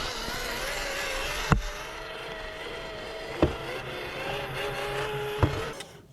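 An FMS R/C Hummer with locked diffs and four-wheel steering crawling in low gear, a steady electric motor whine with harmonic drone and three sharp knocks or bumps spaced about two seconds apart, no talk.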